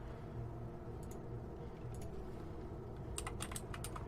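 Computer keyboard clicking faintly in a quiet room over a low background hum, a few isolated keystrokes followed by a quick flurry of typing near the end.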